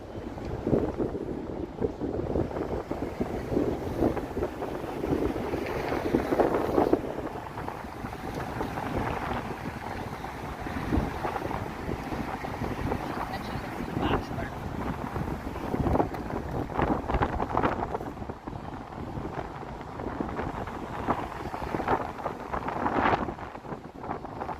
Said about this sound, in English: Oh, major wind happening here.